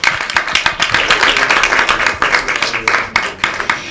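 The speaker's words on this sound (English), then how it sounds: "round of applause to the team." A conference audience claps together in sustained, dense applause, loud and close, with a faint voice underneath.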